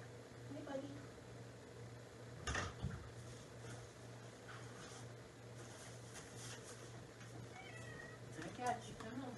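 A house cat meows indoors, a few short, fairly faint cries that rise over a steady low hum while a person talks nearby.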